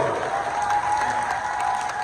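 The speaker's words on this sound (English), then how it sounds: "Round of applause for Kim Ayusowa." A crowd at a Ghanaian community event gives a steady round of applause, dense and continuous clapping that fills the whole moment.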